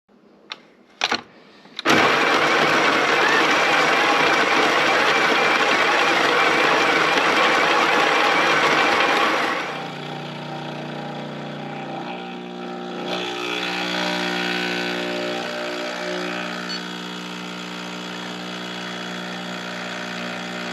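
An electric coffee grinder starts with a couple of clicks, then whirs loudly and steadily for several seconds as beans are ground into the jar, before the motor winds down and keeps running at a lower, changing pitch.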